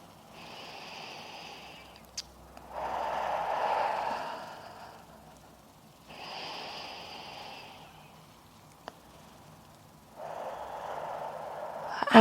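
Slow pranayama yoga breathing, four long drawn breaths alternating inhale and exhale, close and soft with quiet pauses between.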